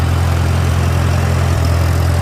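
A Farmall tractor engine runs steadily in first gear, loud and close, with a low, even chugging drone that keeps a constant pitch throughout.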